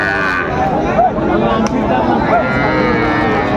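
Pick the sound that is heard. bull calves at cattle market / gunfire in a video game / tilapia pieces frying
bull calves at cattle market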